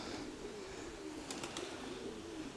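Soft pigeon cooing murmurs faintly through steady outdoor noise, with a few brief sharp clicks partway through.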